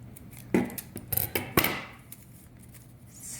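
Scissors snipping through folded paper for a Chinese New Year papercut craft: a quick series of close, crisp cuts and rustles, followed by quieter handling of the paper.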